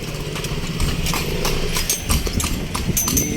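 A horse's hooves clip-clop steadily on the street while it pulls a kalesa carriage through Intramuros, a close, regular clatter continuing throughout over faint background noise.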